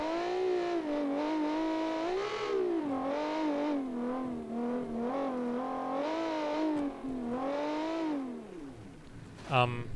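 A 265-horsepower 2-liter rally car engine in a classic 1972 rally competition, revving and droning through rising and falling gear pulls, steady and close throughout, with a voice speaking over it.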